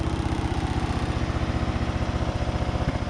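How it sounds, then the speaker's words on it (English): Craftsman DYT4000 lawn tractor engine running steadily close by, a low rhythmic thumping idle with even pulses, slightly rough from an unadjusted carburetor, no voices. "Seems like the machine's running pretty well"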